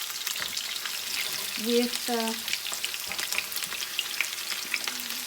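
Potatoes fry in a well-filled pan for a cheesy fried potato bake, giving a steady, close crackling sizzle throughout, with a brief spoken word partway through.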